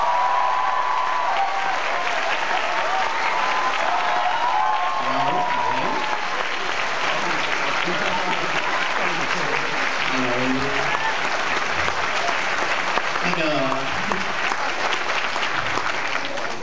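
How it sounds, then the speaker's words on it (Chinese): A lecture audience at National Taiwan University of Science and Technology gives sustained, loud applause to welcome Tsai Kang-yong, dense clapping filling the room with a voice and crowd murmur underneath. "让我们用最热烈的掌声欢迎今天我们主讲人蔡康永"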